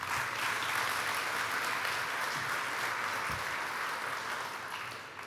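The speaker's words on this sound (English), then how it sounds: "please give them applause again." Broad, sustained applause from an audience at an outdoor community block party, loud and even, gradually tapering near the end.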